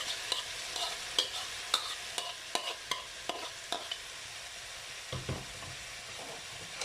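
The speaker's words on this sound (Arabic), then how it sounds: "وانزل بالبطاطس بتاعتي وبقيت خلطه البصل" Potatoes and onions are stirred in a frying pan, a utensil clacking and scraping in irregular knocks over a soft, steady sizzle, with no talking.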